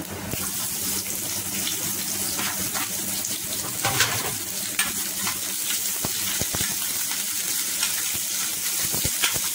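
Chopped onion frying in a hot pan after garlic, a loud continuous sizzle with crackling pops and occasional stirring clatter throughout.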